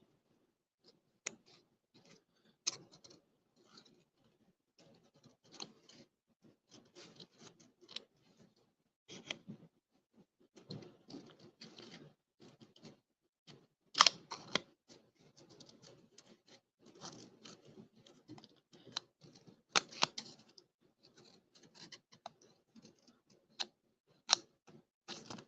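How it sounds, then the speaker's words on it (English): Scissors snipping bits of decorative paper, many quick small cuts in irregular bursts with brief pauses, close but fairly quiet. "now I can just trim some bits and pieces from here"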